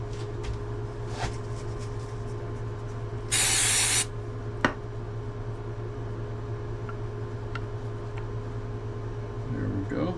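An activator is sprayed onto a mystery-wood crotch bowl in one short, loud hissing burst of under a second, over a steady low background hum.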